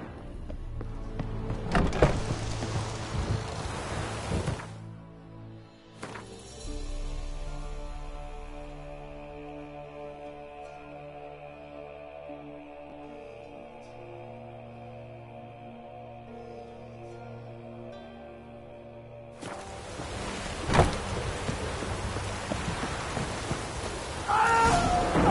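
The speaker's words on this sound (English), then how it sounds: "Looks like rain." Rain falls in The Witcher 3, a steady broadband hiss at the start and end, with a sustained musical passage taking over the middle section.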